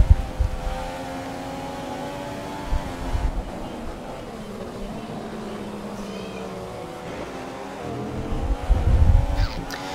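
Formula 1 car engines in F1 2015 at the US Grand Prix whine at high pitch with rising and falling tones as cars pass and shift, under a steady race-car drone with occasional rumbling thumps.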